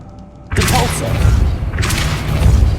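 A Depulso spell cast in the Hogwarts Legacy game on PS5 makes a sudden loud booming blast with a whoosh. A heavy rumble follows and swells again a second later.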